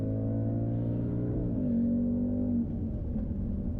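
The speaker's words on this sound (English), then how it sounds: "Quick downshift." A road car lapping a race track on Continental tyres, engine note dropping and flaring through a quick downshift, loud and close from onboard, steady droning harmonics with a brief rise then fall.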